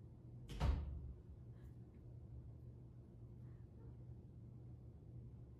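A door closes once with a short thud and brief rumble in a scary online video, followed by a quiet low hum and faint background noise.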